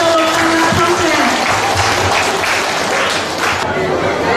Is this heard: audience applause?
yes